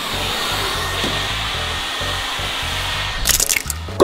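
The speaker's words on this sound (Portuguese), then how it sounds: "Com secador de cabelo." Hair dryer blowing on an egg, a loud steady whooshing drone with a pulsing low hum, ending in a couple of sharp knocks and clatters near the close.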